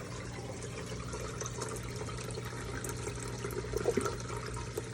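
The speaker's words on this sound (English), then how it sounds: "I think that's even like too much water flow" Water runs through the screen of a ClearWater algae scrubber in a steady, close rushing and splashing flow, with a slight gurgle toward the end and no talk.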